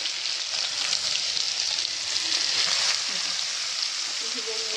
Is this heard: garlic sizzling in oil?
yes